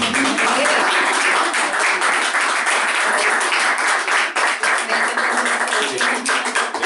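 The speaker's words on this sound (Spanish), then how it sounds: "Un aplauso, yo creo que sí." Loud, dense applause from a crowd at a book launch event, a continuous wash of clapping held at full strength for about seven seconds with a faint murmur beneath it.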